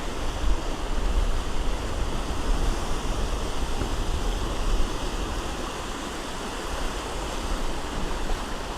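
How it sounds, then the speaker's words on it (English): Lake Erie water washes continuously against a wintry shore in a steady, broad rush, with no voices and no clear breaks between waves. "Hear that water?"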